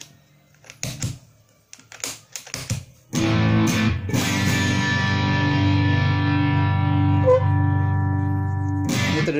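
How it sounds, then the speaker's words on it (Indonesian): An electric guitar played through the distortion of a 5-in-1 multi-effects unit: a few muted pick scrapes and taps, then a loud, sustained distorted chord ringing out with a thick buzzing tone. "Ini untuk distorsi, distorsi ini ke bawah dulu semua."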